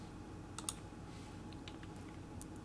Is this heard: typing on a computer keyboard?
yes